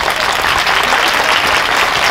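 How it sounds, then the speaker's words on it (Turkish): Loud, dense applause from a crowd at the Ferhadanlı watermelon festival, a steady close wash of clapping with no break. "Onlara da bir büyük alkış alalım"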